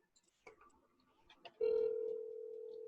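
Someone placing a call over a telephone line: after a few soft clicks and handling noises, a steady dial tone starts abruptly and holds continuously, moderately loud, with no talking.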